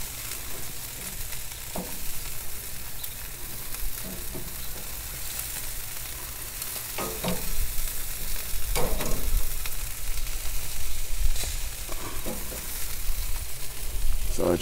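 Bratwursts and black-and-garlic chicken wings sizzle steadily on a smoker grill alongside Jamaican jerk chicken, a constant crackling hiss with occasional louder pops and flips.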